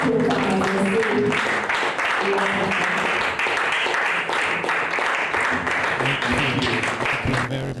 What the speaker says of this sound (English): With a resounding round of applause, please let's welcome Mr. Yinka Oyedepo